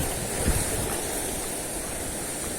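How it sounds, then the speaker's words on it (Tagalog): Strong ocean waves break and wash along a shore while fishing from the beach, a steady roaring surf mixed with wind noise on the microphone, loud and continuous with one brief heavier surge early on. "Kaso ang alon ay talagang malakas."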